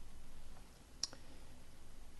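A computer mouse gives a single soft click, then a fainter second one, over quiet room noise with no talking.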